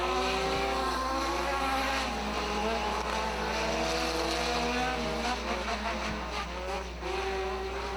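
Front-wheel-drive race cars run laps at Hattiesburg Speedway, their engines a loud, continuous, close whine whose pitch rises and falls as the cars chase each other around the track.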